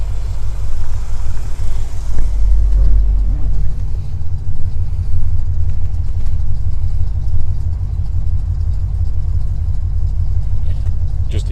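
A fuel-injected 1981 Corvette engine idling, a steady loud low rumble with an even throb that holds throughout, close up, with no voice over it.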